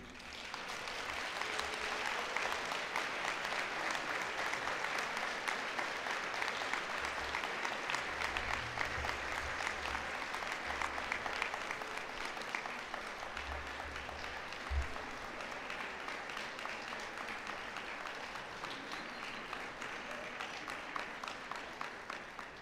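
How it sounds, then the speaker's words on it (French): A graduation-ceremony audience applauds the graduates' parents and friends with steady, sustained clapping that fills the hall for over twenty seconds, even and unbroken, fading only slightly near the end. "je vous invite à les applaudir chaleureusement"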